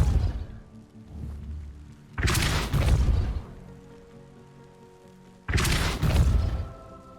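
Two forceful Depulso spell casts in Hogwarts Legacy, each a sudden loud whooshing blast with a booming thud that fades over a second or two, separated by a quieter lull.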